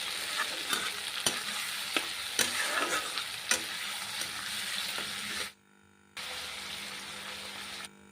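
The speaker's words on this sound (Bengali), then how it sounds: "টমেটো কুচি দিয়ে দেবো এগুলো একটু ভালো করে ভেজে নিতে হবে" Chopped tomato and golden-brown onions frying in a pan, a steady close sizzle broken by sharp utensil scrapes and stirring knocks, with a brief drop to near silence before the sizzle resumes.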